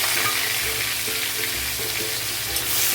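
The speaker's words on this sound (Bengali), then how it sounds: "দিয়ে দেবো প্রথমে পেঁয়াজ বাটা" Onion paste sizzles in oil in a wok while a mustard rohu fish curry is being cooked, a steady close crackling hiss with soft stirring scrapes and no voices.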